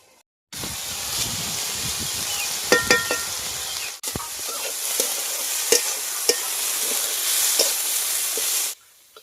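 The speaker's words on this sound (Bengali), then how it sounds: "এবার একটু কিছুক্ষণের জন্য চাপা দিয়ে দিয়ে ভেজে নেব।" Potato, potol and brinjal crackle and hiss as they fry in a pan, a steady close sizzle broken by clicks and scraping stirs, with a short pause midway and silence at each end.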